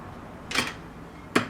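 Two crisp mechanical clicks about a second apart as the angle adjustment of a Makita PJ7000J biscuit joiner snaps into its notch, close and alone.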